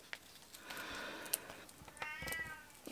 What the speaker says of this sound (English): The cat's out there shouting her head off.